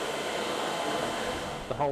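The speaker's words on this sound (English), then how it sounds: "Vacuum is applied through the small holes in the pattern." A vacuum forming machine draws suction through small holes in a pattern, making a steady airy rushing hiss like a blower, close and continuous, with a brief voice breaking in near the end.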